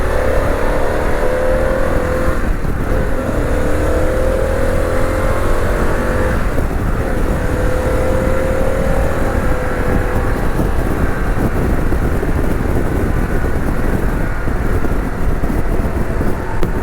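A Harley-Davidson Pan America motorcycle rides along in third gear, its engine droning steadily and loudly under heavy wind rush with no clear revving peaks.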